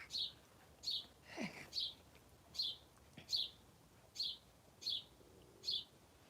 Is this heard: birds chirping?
yes